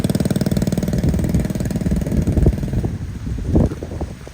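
A 500-600 hp Honda engine drives a tropical ferry boat, a loud steady throbbing drone with fast rhythmic pulsing close by, later rougher with some clatter.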